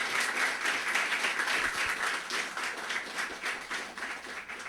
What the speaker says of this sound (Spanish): vamos a dar un fuerte aplauso aquí a los expositores